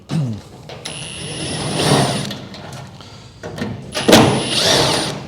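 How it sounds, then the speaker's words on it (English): An angle grinder cuts into the body of a classic Porsche 356 in two loud bursts, each with a high whine over gritty, rasping metal noise and a short pause between them. "but I gotta do it with the grinder"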